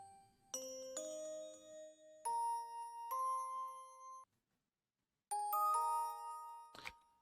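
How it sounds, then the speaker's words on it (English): Soft synth bell tones from a Pluggnb beat, played as a quiet textural layer: sustained chiming notes stepping through a short melodic pattern, a gap of silence, then the bell phrase returning, alone without voices. "we got a little bell sound. It's kind of low key and it's more like a texture"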